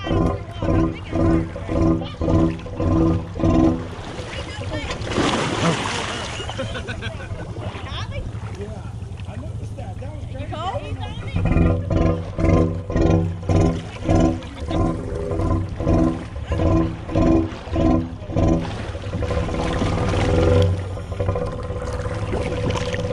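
A Honda outboard motor, run again after being submerged, sputters and pulses in rhythmic bursts, then surges into a rougher stretch before settling back into a loping idle, with someone talking over it.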